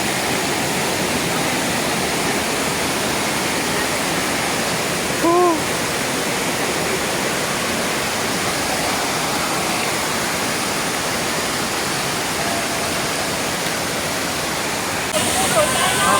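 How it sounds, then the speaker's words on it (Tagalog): Ditumabo Mother Falls in San Luis, Aurora Province roars as a steady, loud broadband wash of falling water, unbroken throughout, with a brief faint voice partway through. "The Mother Falls at San Luis, Aurora Province."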